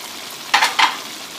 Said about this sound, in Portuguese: vou misturar esses pimentões aqui.